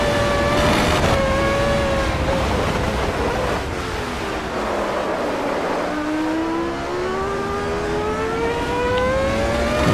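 Formula 1 cars race in a wet 2000 Canadian Grand Prix game recreation, their engines giving sustained high-pitched whines that rise and fall through gear changes. Several cars pass, and their engine tones overlap over steady spray and road noise.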